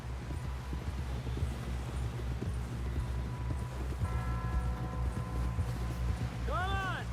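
Horse hooves galloping in Red Dead Redemption 2: a fast, steady clip-clop rhythm runs throughout, loud and close, with voices talking over it and a horse whinny near the end.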